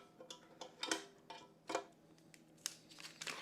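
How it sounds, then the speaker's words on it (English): Eggs scrambled with salted Kerrygold butter in a roomy electric skillet, with scattered scraping, clinking utensil hits against the pan and soft crinkles, fairly close but quiet, no voice. "easiest way to scramble all of these eggs is in my electric skillet"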